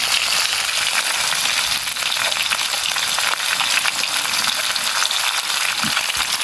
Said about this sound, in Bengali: এখন এই মশলাগুলো ভালো করে আমের সাথে মিশিয়ে নেব।